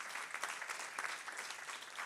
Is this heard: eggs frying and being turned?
no